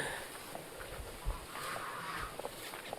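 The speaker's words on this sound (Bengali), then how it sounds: "কত রাজা হাঁসের ডাক শুনতে পাচ্ছি।" Wild geese call faintly in the distance beside a Sundarbans river, giving a few scattered honks over a quiet outdoor background.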